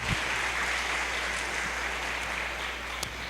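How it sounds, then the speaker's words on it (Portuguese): A church congregation applauds during a sermon, a steady wash of many hands clapping that sounds somewhat distant and evenly sustained, with a low hum beneath it and no speech. "aplauda o Senhor"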